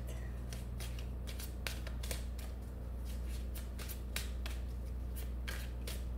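Tarot cards are handled and shuffled close up, giving a fast series of crisp, papery riffles and flicks in uneven bursts over a faint low background hum.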